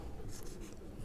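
A marker or chalk scratching on a board while a diode symbol is drawn, one short continuous stroke heard close and steady for about a second.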